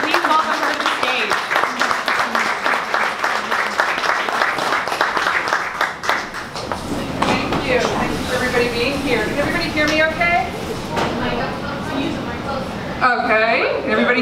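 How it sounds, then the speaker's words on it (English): An audience at a 1 Million Cups Dallas event applauds and cheers as a chef is welcomed to the stage, a dense wash of clapping that shifts midway into rustle and murmuring voices before a few final claps. "give a huge round of applause for Chef Idalee"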